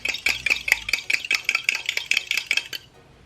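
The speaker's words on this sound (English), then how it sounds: "Now I'm going to scramble up 2 eggs." Two small eggs being whisked with a fork or whisk against a bowl, a quick, steady series of about fifteen bright clinking taps over three seconds, close and alone before stopping.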